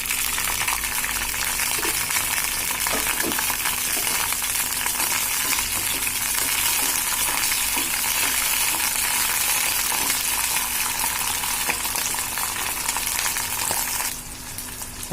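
Green chillies frying in hot oil, a dense, steady sizzle lasting throughout at close range, easing slightly near the end.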